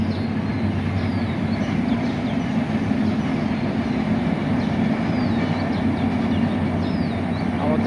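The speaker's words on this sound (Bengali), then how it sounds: "আমাদের পাশে রাস্তা দিয়ে ট্রেন যাচ্ছে। ট্রেনের শব্দ অবশ্যই শুনতে পারছেন।" A train passing on a nearby track beside a path gives a steady, loud, continuous rumble and hum that holds unbroken throughout, with no talk.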